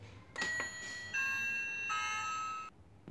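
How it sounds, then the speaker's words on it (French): A doorbell rings out clearly: a few bright chime tones, each sustaining and overlapping before the sound cuts off, heard alone in a quiet room. "Je vais vous montrer comment sonne la sonnette."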